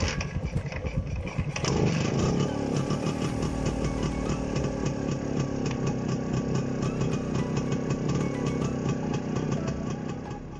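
A Yezdi Roadking vintage two-stroke motorcycle engine runs steadily and loudly up close, a dense, raspy buzzing drone that starts abruptly and carries on without a break, with no voices.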